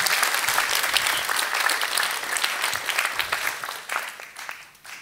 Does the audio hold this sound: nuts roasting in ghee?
no